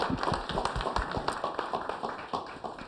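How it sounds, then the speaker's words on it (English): Scattered applause from a small audience at a city community forum, steady uneven clapping for about three seconds at moderate level in a hall. "Give Rob a round of applause, please."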